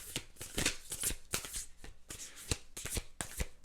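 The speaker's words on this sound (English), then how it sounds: "So you're getting the shuffle." A deck of tarot cards is shuffled close up in a burst of quick riffles and slaps with short pauses between them, and no talking.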